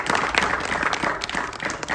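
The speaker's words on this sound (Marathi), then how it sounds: "वैभवला सुद्धा टाळ्या वाजवून त्याचं" A crowd claps steadily at a leather-ball cricket tournament's closing ceremony in Shirdi, a dense patter of applause that holds at an even level throughout.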